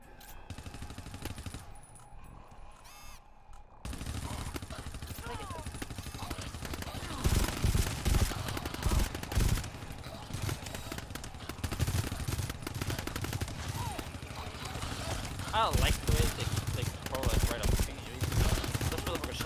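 Gunfire in the video game GTFO, repeated bursts of automatic shots and single loud reports in irregular clusters over a low ambient background, with players talking over the shooting.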